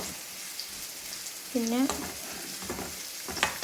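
Garlic, shallots and curry leaves fry in a pan for a coconut fish curry, giving a steady close sizzle with stirring noises and a brief spoken word.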